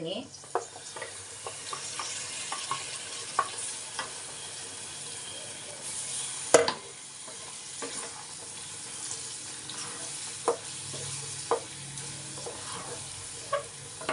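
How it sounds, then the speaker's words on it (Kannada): Chicken gravy masala fries in oil in a pan, a soft steady sizzle with stirring clatter and occasional sharp knocks, close and fairly quiet, with little talk. "ಅದು ಒಂದು ಸ್ವಲ್ಪ ಫ್ರೈ ಆಗಬೇಕು"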